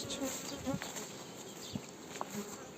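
Honey bees flying around a hive during an acacia nectar flow, their faint buzzing hum drifting in and out outdoors with occasional louder passes near the microphone, no voices.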